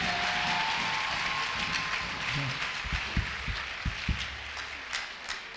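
A church congregation's clapping, a dense wash of many hands that thins toward the end, with a few sharper individual claps and low thumps breaking through near the close.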